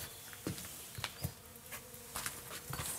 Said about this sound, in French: C'est des abeilles.